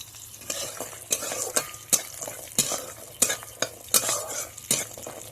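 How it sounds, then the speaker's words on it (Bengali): Sun-dried lentil dumplings (bori) frying in oil while being stirred in a pan, sharp repeated scraping strokes of a spatula over a continuous close sizzle. "নাড়াচাড়া করে ভেজে তুলে নেব।"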